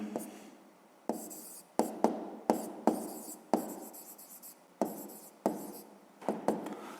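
A pen scratches across paper in short bursts of handwriting, separated by brief pauses, close and fairly quiet, while working out a 5th-grade maths exercise.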